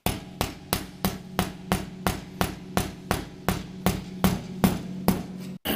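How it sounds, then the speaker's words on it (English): Steady, evenly spaced hammer blows on metal, knocking a fuel pump into place on a 1989 K5 Blazer with TBI, about fifteen sharp knocks in a regular rhythm, close and ringing. "could probably use a smaller hammer,"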